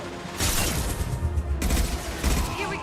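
Dense bursts of rapid gunfire and booms from a Mass Effect 2 firefight, loud and continuous for nearly three seconds with a brief break midway.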